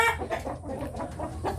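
A white-legged fighting rooster clucks in a quick series of short, throaty notes, close by and fairly steady.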